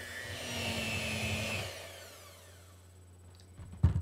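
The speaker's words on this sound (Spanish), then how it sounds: "Le voy a agregar el azúcar y los voy a batir muy bien hasta que estén cremosos." An electric mixer beats lard, butter and sugar until creamy, a close whirring drone that fades out after a couple of seconds, ending with a brief clunk.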